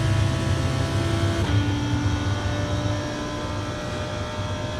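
A Lamborghini Huracan GT3 race car engine in iRacing at Imola drones loud and steady, its pitch dropping sharply once as it shifts gear, then holding a constant sustained tone, with no talk.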